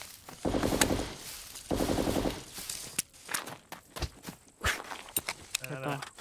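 Automatic gunfire in a city battle in the survival game SCUM, with two rapid bursts near the start followed by scattered single shots and clatter, while players shout over the fighting.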